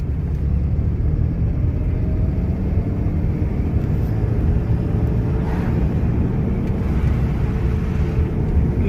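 A car in second gear during a driving lesson makes a steady low engine rumble and road noise, continuous and fairly loud throughout.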